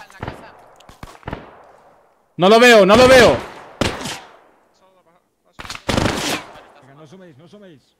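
Bursts of automatic gunfire in the Arma 3 military simulation, with two loud clustered volleys separated by quieter single shots, and someone speaking over it.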